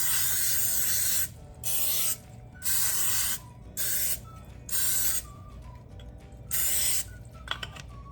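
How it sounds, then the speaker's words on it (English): Nonstick cooking spray hisses from a can into a 9x13 glass baking dish in six short, separate bursts, close and clear with quiet pauses between. "I'm spraying a 9x13 glass baking dish with nonstick cooking spray."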